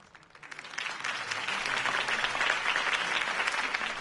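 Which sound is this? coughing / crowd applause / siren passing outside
crowd applause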